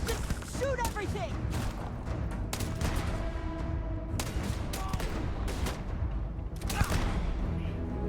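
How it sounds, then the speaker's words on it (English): Gunfire from Starfield, a space role-playing video game, comes in repeated rapid bursts and single sharp shots through a chaotic firefight, with a voice talking over it. "Just shoot everything!"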